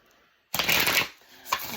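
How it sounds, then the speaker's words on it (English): A deck of tarot cards is shuffled at close range, with a loud burst of riffling after a short silence, a brief lull and then another flurry of card sounds. "Let's do one more shuffle with these."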